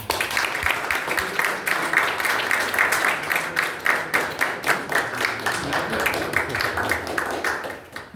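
A live audience claps together on cue at a talk, a dense, steady wash of hand claps that carries on for several seconds and thins slightly near the end.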